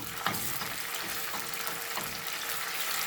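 Tomato paste fries in a pan with a constant close hiss and soft crackle, steady throughout and free of voices.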